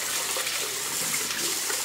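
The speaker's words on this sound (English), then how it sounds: "I've just put a cup of rice and I'm washing them now." A cup of rice is rinsed in a pot of water for lamb shank soup, giving a steady, soft swishing and sloshing of water that continues without a break and with no talking.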